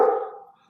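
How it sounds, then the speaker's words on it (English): A single close, loud dog bark rings out indoors and then trails away, with nothing else heard. "The dog barks and he just upsets my whole mind"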